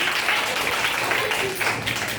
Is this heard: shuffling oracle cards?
no